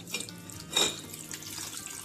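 Cold tap water runs and splashes steadily into a sink, close and moderately loud, with a brief stronger gush.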